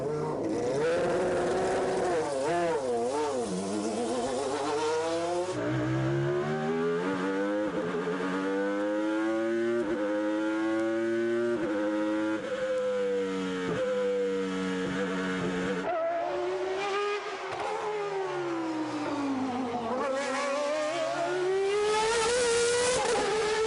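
Renault Espace F1, a one-off minivan with a Formula 1 engine, revving and accelerating with sweeping pitch climbs and drops, loud and close, with a brief gap between runs.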